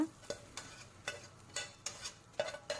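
Spoon or spatula scrapes in short, irregular strokes while fried ingredients are stirred into boiled spaghetti noodles in a pan, faint clinks and scraping over a low background.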